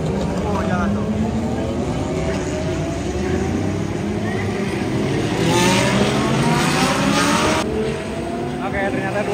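Race car engines roar and rev loudly and continuously at the Mandalika Festival of Speed circuit, several cars passing at once with rising pitch sweeps, while a commentator talks over the noise.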